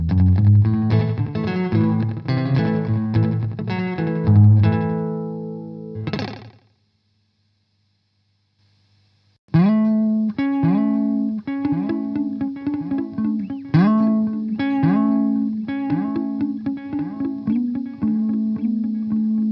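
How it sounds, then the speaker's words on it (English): An electric guitar played through a KMA Audio Machines Cirrus reverb and delay pedal rings out in loud, sustained notes that fade into a brief silence, then returns as plucked, repeating notes trailed by echoes. "the time knob, which can take the delay from a short slapback to a big ol' echoey monster cave"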